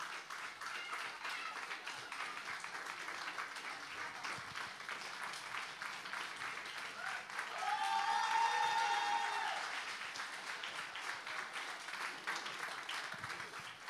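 Sustained audience applause follows an oriental candle dance show, a broad, even patter of many hands that holds for the whole stretch, with a short shrill whistle or cheer rising over it midway.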